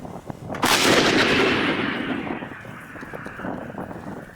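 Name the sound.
artillery cannon firing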